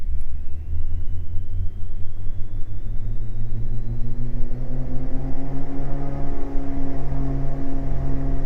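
Twin piston engines of a Beechcraft G58 Baron spool up to go-around power, a loud steady drone whose pitch climbs smoothly over several seconds before settling into a strong sustained roar.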